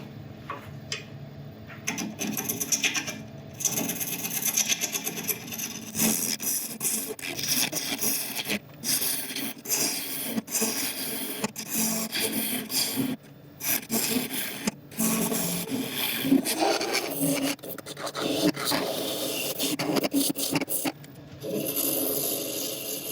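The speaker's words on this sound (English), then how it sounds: "So last bit to do is to widen this hole by about another ½ an inch with a negative rake carbide." Negative rake carbide tool scraping inside a turning boxwood box on a lathe, widening the hole; a steady close rasping scrape with brief gaps and breaks, loud and continuous.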